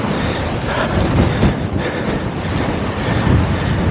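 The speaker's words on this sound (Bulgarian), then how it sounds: "Вятърът е." Strong wind buffets the microphone in a continuous rumbling roar, steady and loud with gusty swells.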